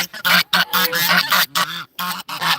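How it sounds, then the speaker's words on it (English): A flock of seventeen geese of mixed ages and sizes honking close by, a dense run of loud overlapping calls in quick bursts with short gaps between them. "I'm surrounded by 17 geese at this very moment."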